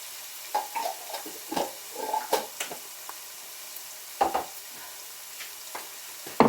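Spices and chili peppers sizzle and fry in a pan for chicken madras, with a steady soft crackle broken by several louder stirring scrapes and clinks, close up and with no talking.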